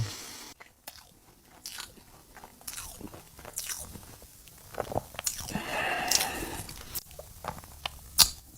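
Close crunchy bites and chewing on a crispy deep-fried Algerian pastry with a crisp exterior, several sharp crackles followed by steady munching, with no one talking.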